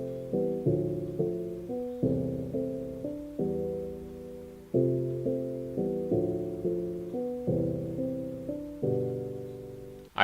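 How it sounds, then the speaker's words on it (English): Keyboard chords for a boom bap hip hop beat, thickened with two extra low keys under each three-note voicing, are played alone and sustained, with a fuller bottom end as each chord is struck and left to ring. "so I've added some extra keys to thicken it up on the bottom,"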